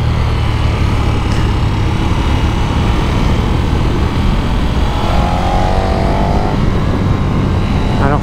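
A KTM Super Duke 1290 twin-cylinder motorcycle roars continuously under heavy wind rush. The engine note climbs as it revs higher midway, then settles back into a loud, steady drone.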